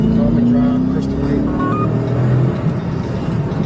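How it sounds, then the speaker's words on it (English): A fleeing car pulls away from a police stop, its engine a loud steady rumble with a rising drone that holds close and strong for a few seconds, then eases slightly as it moves off. "Vehicle's taken off."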